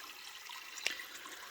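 Water flowing at a measured 20 litres per minute, collected as supply for a pond or heat pump at a village house, makes a steady, faint rushing hiss with one brief click partway through.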